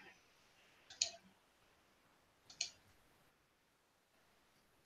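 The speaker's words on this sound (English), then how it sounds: "I can hear you clicking." Faint clicking comes through a voice call, two sharp clicks about a second and a half apart over a quiet hiss, with a softer one at the very end.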